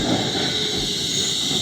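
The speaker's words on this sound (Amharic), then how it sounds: "ትልቅ ይሄ ባቡር ነው።" A Wuppertal suspension railway train passes nearby with a steady broad rumble and hiss of wheels and motor, loud and continuous for under two seconds, with no voices.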